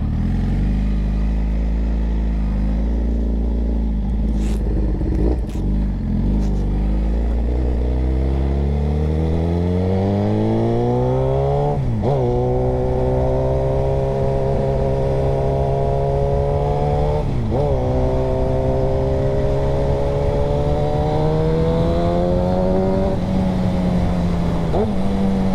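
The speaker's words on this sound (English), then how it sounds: "So the bike may be loud. You guys are going to see how loud it really is" A motorcycle engine idles with a deep rumble, then revs up steadily, climbing in pitch with a couple of brief dips, loud and close throughout.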